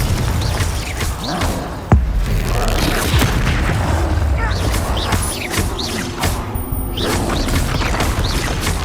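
Confringo fire-spell blasts in Hogwarts Legacy combat, a sharp explosive boom near the two-second mark amid dense, continuous crackling and clashing game effects, loud and busy throughout.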